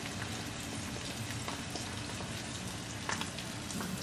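An egg frying in a pan on a stovetop burner, a steady bright sizzle and crackle filling the whole stretch, close and even, with no talking.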